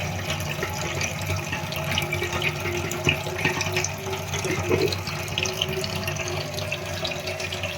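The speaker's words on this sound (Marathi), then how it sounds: "हा नॉब जर आपण असा काढला तर पाणी वगैरे पूर्ण याच्यातलं जातं" Water runs and gurgles steadily at close range as a wash basin drains after its plug is pulled, a continuous draining rush with no pauses.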